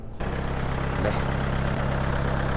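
The diesel engine of a white 2016 Kia Carnival nine-seater with about 130,000 km idles in a steady, even low hum. It sounds close and alone after a brief silent start.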